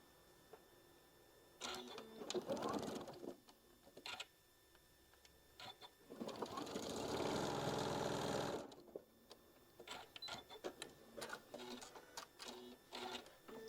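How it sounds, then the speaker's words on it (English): A sewing machine stitches a table runner row in short bursts, with one longer steady run in the middle, close and fairly quiet, interspersed with small clicks and handling noises. "I'm going to go ahead and get it sewed on."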